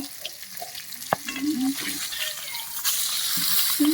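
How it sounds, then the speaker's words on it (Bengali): Fish heads fry in hot oil in a pan, giving a continuous close sizzle that builds over a few seconds, with a brief clatter and a voice faintly underneath. "এইভাবে বাকি মাথাগুলোও ভেজে নেব।"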